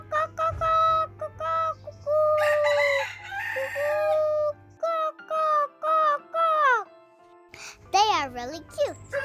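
Chickens and a rooster kept as pets in Dahab, with repeated loud crowing calls and clucking up close, mixed with someone speaking between and over the bird sounds.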